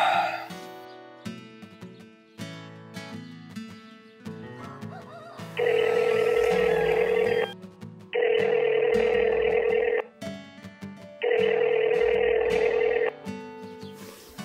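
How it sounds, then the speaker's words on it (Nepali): A telephone rings in three long, loud electronic bursts with short gaps between them, following a stretch of quieter tonal music. "म अङ्कललाई फोन गर्छु।"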